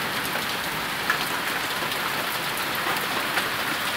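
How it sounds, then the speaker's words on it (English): Pea-sized hail pelts down during a storm, a loud, dense, unbroken hiss of impacts close by, with a couple of slightly sharper hits standing out. "Oh, here comes more hail."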